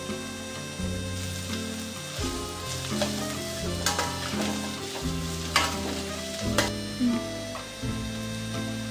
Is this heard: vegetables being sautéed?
yes